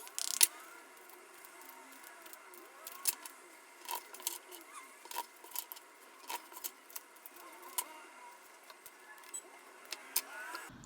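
Tarot cards being shuffled during a reading, quiet irregular riffling taps and soft snaps scattered across the stretch, close up and faint against a low background.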